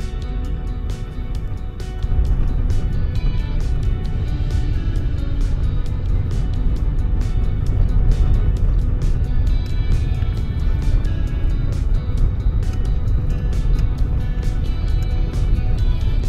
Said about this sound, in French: Filmer des voitures en train de drifter sur la glace